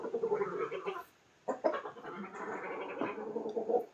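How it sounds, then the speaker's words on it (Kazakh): Lohmann Brown laying hens cluck and murmur close by in bursts of throaty, warbling calls, broken by a short pause before the clucking resumes and runs on steadily. "мынау несушка ламан браун"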